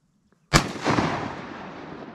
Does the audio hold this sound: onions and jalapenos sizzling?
no